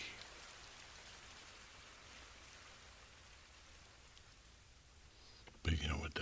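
Steady rainfall, a continuous hiss of drops on surfaces at even loudness, with a brief louder burst near the end.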